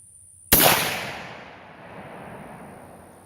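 A single sharp, loud crack from an old 8mm Mauser rifle firing a handload outdoors, followed by a long decaying rumble and echo fading over a few seconds.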